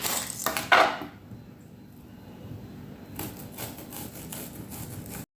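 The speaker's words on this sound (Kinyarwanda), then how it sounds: "uyu munsi ndashaka kugikatisha kino cyuma nicyo gikata salade neza akayepeseri gatoya" Small knife cutting salad on a board gives a few sharp taps and scraping strokes, then a quiet pause before another run of rhythmic cutting.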